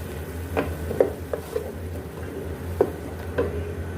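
Green chilies and tomatoes are stirred in a pan with a low sizzle underneath. A spoon gives a handful of soft, scattered scrapes and taps, close and fairly quiet, with no speech.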